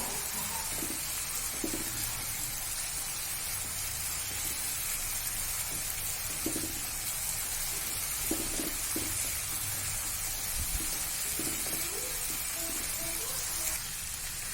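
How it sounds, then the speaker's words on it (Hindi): Ginger and garlic sizzle in a hot pan for a shahi gobhi musallam: a steady, even crackling hiss runs throughout, with occasional soft clinks of stirring underneath. "अदरक लहसुन भी डाल देंगे। उसकी भी कच्चापन जाने तक हम फ्राई करेंगे"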